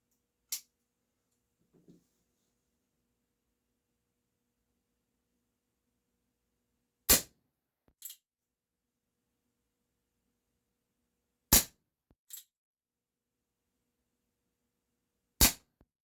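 Sparse, sharp pops from a Remington 1875 CO2 revolver firing at targets, five or six single shots spaced seconds apart in quiet surroundings, a few followed by a faint hit.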